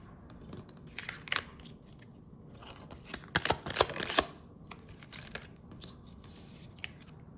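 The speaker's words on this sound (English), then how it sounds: "Let's go ahead and pull some tarot cards." Tarot cards handled and pulled from a deck: soft shuffling, flicking and rustling of card stock, with a denser cluster of crisp snaps midway, close and fairly quiet, without voices.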